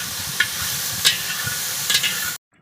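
Potato, pumpkin, beans, cauliflower and soybean chunks fry in hot oil for khichuri, with a steady close sizzle and occasional stirring scrapes before the sound cuts off abruptly.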